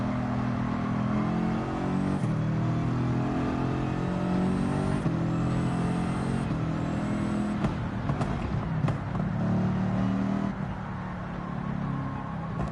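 A Mercedes race car in the Gran Turismo 7 racing game drones steadily as it is driven with a light throttle. The engine noise is loud and continuous throughout, with no talking.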